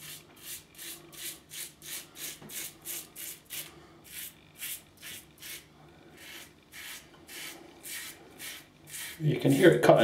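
A G1 single-edge razor scrapes across facial stubble, with a series of short, evenly repeated rasping strokes close to the microphone, faint and crisp, ending with a brief louder rustle.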